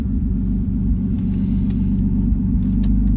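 Turbocharged V6 Mustang engine droning steadily while driving, a loud continuous low rumble from inside the car with faint high whines and brief ticks over it.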